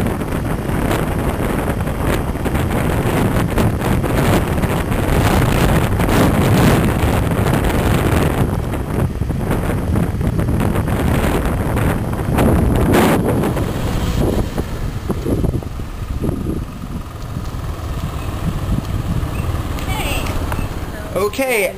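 Riding a scooter through city streets brings heavy, roaring wind buffeting against the microphone that masks nearly everything, with a rushing, uneven texture that eases slightly toward the end.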